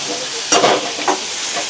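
Onion and tomato masala sizzles in hot oil in a pan for a chicken gravy. A steady frying hiss runs throughout, broken by a couple of louder scraping swishes as a spoon stirs the mixture.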